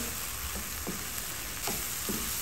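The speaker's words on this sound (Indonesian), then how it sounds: "Kita tumis sampai bumbunya mateng biar enggak langu." Spice paste with lemongrass, bay leaves, galangal and torn lime leaves sautéing in a pan for sweet potato sambal goreng, a steady bright sizzle with a few soft stirring scrapes and no talking.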